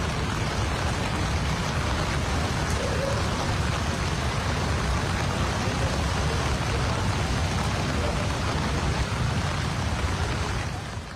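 Heavy, continuous rain pouring down during monsoon downpours in Himachal Pradesh, a dense, loud, unbroken hiss of falling water that holds steady throughout.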